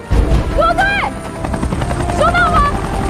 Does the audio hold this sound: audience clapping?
no